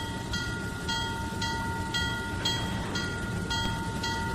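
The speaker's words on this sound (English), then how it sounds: "We got a train coming in that has nothing to do with your industry." A train arrives in the railroad simulation game Trainz 2019 on the C&O Hinton route, a steady rolling rumble with regular wheel clicks over rail joints, continuous and fairly close, with no talk.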